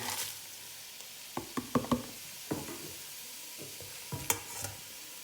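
A spoon stirring mushroom and mung bean soup in a pot, a few scattered knocks and scrapes against the pot over a faint background, close and fairly quiet.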